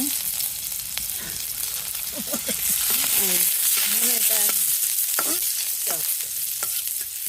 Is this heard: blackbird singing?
no